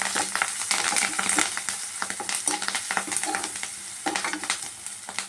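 Ivy gourd curry with turmeric and curry leaves is stirred in a hot pan, with a steady sizzle of frying and repeated scraping, clinking strokes of the spoon against the vessel, close and clear.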